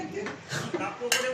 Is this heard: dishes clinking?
yes